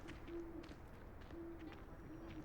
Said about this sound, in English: there's an owl right there, though